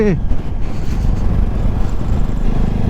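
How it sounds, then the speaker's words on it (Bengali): Strong wind buffets the microphone on a mountain road near Sela Pass in Arunachal Pradesh in April, a loud, steady roar of rumbling gusts that runs through the whole stretch. "কি হাওয়া দিচ্ছে"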